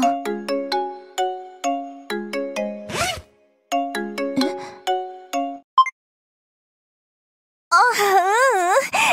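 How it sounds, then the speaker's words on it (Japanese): A melodic phone ringtone from the Summer Clover visual novel game plays as repeated bright chiming phrases, pauses, resumes, then gives way to a warbling tone near the end, loud and with no talking over it. "電話が来たわ。"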